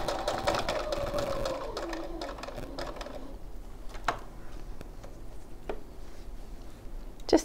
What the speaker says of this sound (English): So we're just sewing all the layers together.